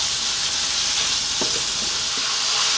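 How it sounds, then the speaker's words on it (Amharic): Food frying in a pan on medium heat for Ethiopian alicha stew, a loud, steady hissing sizzle close by with a few brief scraping stirs partway through. "እሺ ይኸውላችሁ እየተጠበሰ ነው።"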